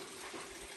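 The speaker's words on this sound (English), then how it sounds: "I got water running in over here. Still out of the side of the cave." Water runs into a cave from its side wall along the Gibb River Road, a soft steady trickling wash, faint and continuous, with no voices.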